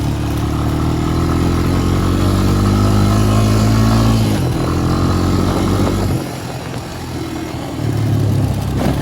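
Motorbike ridden along a dirt trail, its engine loud and close with rising revs, a sharp drop as a gear changes, then rough idling before pulling away again.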